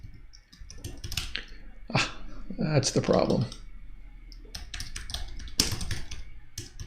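Computer keyboard typing in bursts of quick clicks and taps, interleaved with someone talking briefly, close and fairly quiet.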